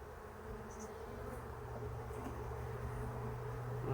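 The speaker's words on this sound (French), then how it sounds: "C'est des jeunes abeilles, elles sont toutes petites." Soft, continuous buzzing of many young bees on a hive frame, a steady droning hum that swells slightly over a few seconds.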